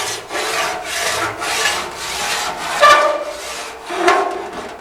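Rhythmic abrasive strokes of a file scraping across the surface of an aluminum Austin Healey shroud during planishing work, steady back-and-forth rasping at close range with a slightly sharper stroke near the end.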